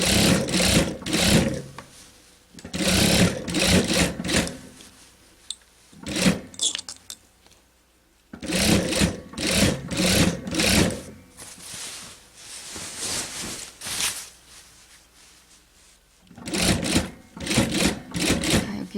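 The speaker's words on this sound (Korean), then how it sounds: "중간중간에 혹시 밀리면 노루발 들었다 놨다 하면서 박으세요" A sewing machine stitches a V-neck colour-blocked dress in repeated bursts of rapid needle chatter separated by short pauses, close and loud, with one quieter stretch of lighter mechanical whirring in the middle.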